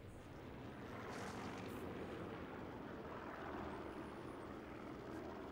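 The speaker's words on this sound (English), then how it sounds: "I should probably be taking advantage of these uh, planes going by whenever it makes sense" Propeller planes from the Sniper Elite 4 video game drone steadily overhead, a broad continuous engine rumble holding at an even level for several seconds with no talk.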